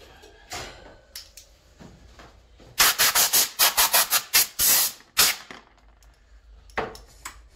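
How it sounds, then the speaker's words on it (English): Brisk back-and-forth strokes of a 1000-grit sanding block rasp against a hard Kydex holster surface, a quick burst of about a dozen rhythmic scrubs, with scattered scrapes before and after. "Sanding block. This is a 1000 grit."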